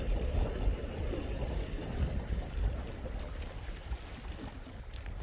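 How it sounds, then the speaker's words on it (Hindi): Sea water surging and splashing along the shore on a cold, windy sunny day, a steady broadband wash with wind buffeting the microphone throughout, loud and close, no talking. "ये देखिए दोस्तों, समुंदर का पानी कैसे उछाल मार रहा है, ये देखिए"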